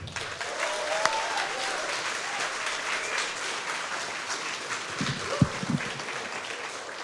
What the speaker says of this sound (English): So let's give a big round of applause for John